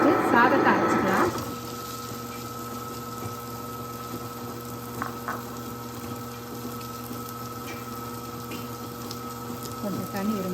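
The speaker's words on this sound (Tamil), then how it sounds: "ஸோ இப்போ ஃபஸ்ட்டு சாதத்தை அரைச்சிக்கலாம்." A kitchen mixer grinder grinding cooked rice for appam batter: a brief noisy burst, then a steady, even motor whine with a low hum that runs on at moderate loudness.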